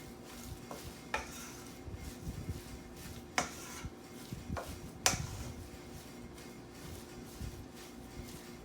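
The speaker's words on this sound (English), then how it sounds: "Now we'll mix this in, and then we'll have our sausage mixture made." Lamb sausage mixture being mixed by hand in a bowl, giving soft irregular stirring and squelching with a few sharp clinks of utensil against the bowl, close and fairly quiet, no talk.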